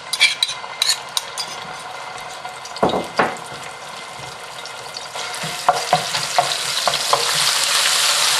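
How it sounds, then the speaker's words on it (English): Chili paste hits hot oil for a Singapore-style lobster or crab chili sauce, bursting into a sharp sizzle with spatula scrapes and clatter that builds into a steady, intensifying fry near the end. "Hot oil, and we're going to add in the paste."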